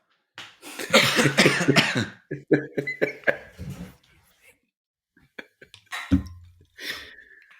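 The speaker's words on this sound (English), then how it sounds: "I got a cough." A burst of harsh, repeated coughing close up, followed by quieter throat sounds and a final cough after a short pause.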